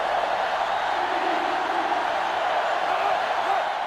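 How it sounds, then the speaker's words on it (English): A packed stadium crowd roars without a break in the NCAA Football 2005 video game on GameCube, a loud, dense, steady wall of cheering. "They're really struggling now as this crowd is going absolutely insane."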